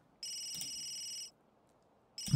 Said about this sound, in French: On pourrait répondre au téléphone.